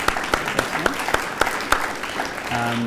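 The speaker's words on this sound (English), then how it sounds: "I think Trish deserves a clap" Audience members at a regional investment briefing clap for a presenter, distinct claps landing in a steady, even rhythm, before a voice starts speaking near the end.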